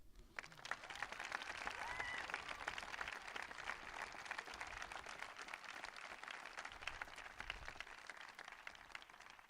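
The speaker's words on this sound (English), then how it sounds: "So please, an even bigger round of applause." An audience applauding at a school closing ceremony, dense steady clapping that stays even throughout, heard from slightly away.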